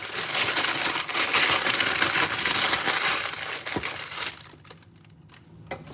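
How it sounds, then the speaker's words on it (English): Parchment paper crinkles and rustles steadily as green beans are wrapped in it for a Shabbat dinner dish, loud and close for several seconds before trailing off into quieter handling. "So I put it in parchment paper."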